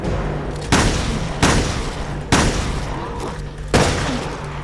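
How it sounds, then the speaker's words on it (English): Shotgun blasts in the video game Resident Evil Revelations 2, four loud booming shots fired at an uneven pace over a steady low background hum. "I think I'll just finish him off with the shotty."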